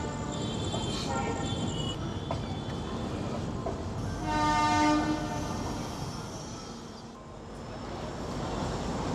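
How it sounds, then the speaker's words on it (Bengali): The 13145 Radhikapur Express rolls slowly into Bandel Junction, a steady rumble of wheels and carriages under a sustained horn blast, with distant station noise and faint voices. "প্রায় 15 মিনিট লেট করে ট্রেন ঢুকলো ব্যান্ডেল জংশন"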